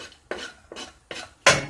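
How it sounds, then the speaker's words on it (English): Chopped onions scraped into a cooking pot in four separate bursts, each a short rough clatter of pieces landing, the last one loudest, close by with no talking. "Let's add the rest of the onions."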